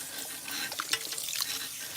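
Cool tap water runs steadily at a salon sink while a client's scalp and hair are rinsed during a psoriasis treatment, a close, continuous hiss of splashing water with small drips, heard alone.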